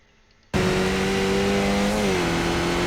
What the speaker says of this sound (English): And then full power, shifting up into third.